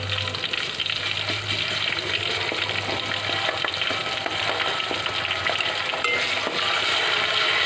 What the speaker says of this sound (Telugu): ఉల్లిగడ్డ వేసి ఇలా తిప్పుతున్నాను